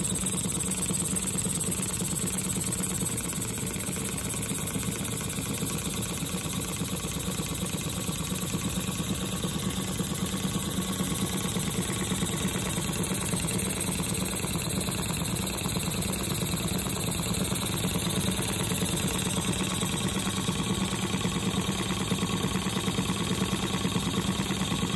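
A small Stuart 10H model steam engine with a three-quarter inch bore and stroke runs steadily on compressed air at 4 psi, a continuous, even mechanical hum and chatter that holds at the same level throughout.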